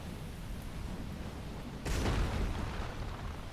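In the Dark Souls video game, a Hydra's shot explodes in Darkroot Basin: a sudden deep boom bursts out midway through a low, rumbling game ambience and trails off into a rough, noisy decay.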